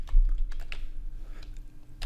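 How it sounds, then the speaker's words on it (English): Rapid clicking of keys as a part number is typed on a computer keyboard, a quick irregular patter of close taps over a faint steady hum. "Here we are going to type our part number"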